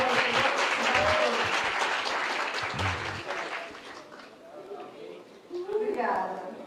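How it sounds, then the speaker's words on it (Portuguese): Audience applause at a university event, a broad crackling wash that is loudest at the start, thins out over several seconds and lifts again near the end, with voices talking over it. "Uma salva de palmas, por favor."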